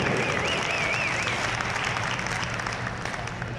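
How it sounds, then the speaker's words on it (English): Steady applause from a crowd at a gymnastics pommel horse championship fills the whole stretch, dense and even clapping without a break. "Give Jared a round of applause"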